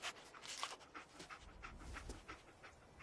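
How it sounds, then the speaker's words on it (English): Dogmeat, the German Shepherd companion in Fallout 4, panting steadily in quick rhythmic breaths, close and fairly faint with no talking. "Get the scent,"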